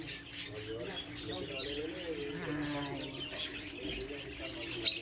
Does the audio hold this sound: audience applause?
no